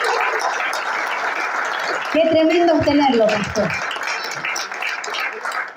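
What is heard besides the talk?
congregation applauding for the pastor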